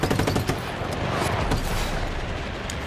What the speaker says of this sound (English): They're shooting you regardless.